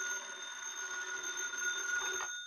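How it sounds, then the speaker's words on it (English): A telephone rings in a Green Hornet radio crime drama, one continuous bright bell trill lasting a couple of seconds before cutting off, heard alone at moderate volume. "the phone rang."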